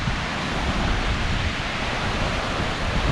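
Day Pond Falls, a small waterfall on a Connecticut trail, gives a steady broadband rush of falling water, constant and fairly close with no voices.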